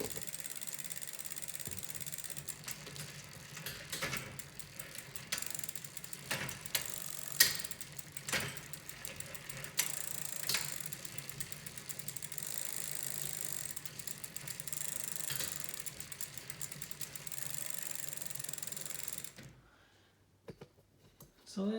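An old Sturmey Archer 3-speed hub on a 1970s Raleigh Sports bicycle ticks steadily as the bike rides along, under continuous road and wind noise that drops away near the end.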